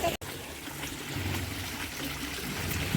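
Water trickles and flows steadily at a village water chamber where people wash clothes, a continuous close splashing stream with a brief dropout near the start.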